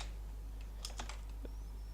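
Keys tapped on a computer keyboard while entering text, a short cluster of light clicks in the middle of the clip against a steady low hum.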